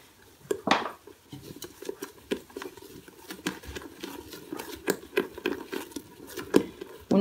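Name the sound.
whisking cake batter with a whisk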